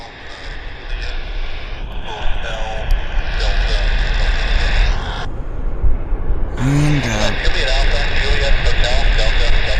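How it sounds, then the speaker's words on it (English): A Convair 580 sits idling with its Allison turboprop engines running, a steady droning whine with high tonal bands, heard at an airport under continuous talk from a nearby person, with a brief radio-like interruption. "Just sitting there, lovely, running his or her Allison engines"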